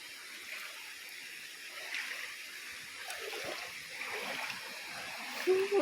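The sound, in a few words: waterfall and clear river water flowing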